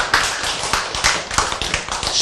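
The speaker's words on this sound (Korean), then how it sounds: "박수!" A church congregation claps along during a sermon, a steady run of sharp hand claps repeating roughly every quarter second, close and fairly loud with no voices over it.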